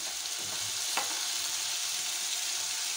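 Curry leaves, red chillies and cumin fry in hot oil in a pan for achari mash daal, making a steady, even sizzle throughout, close up, with one faint clink near the start.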